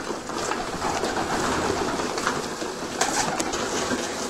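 Hungry young pigeons being kept in training coo and rustle together, a steady dense murmur of calls close by that stays fairly even throughout with no talking.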